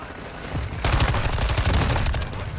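Rapid automatic bursts from an SMG in the video game Call of Duty: Modern Warfare, loud and close, firing in quick stuttering volleys for about two seconds with no talking.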